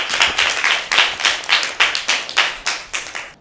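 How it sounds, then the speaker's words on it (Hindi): Children at a Lent-season church quiz event clap together in a lively, rhythmic burst of applause. Roughly ten sharp, even claps ring out close and loud, with no talking over them. "जोरदार तालियां"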